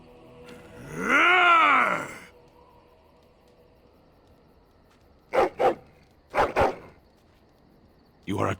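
Dog vocalizations from the video game Dragon Age Origins: a long, drawn-out groaning whine followed after a pause by three short paired bark-like bursts, moderately loud.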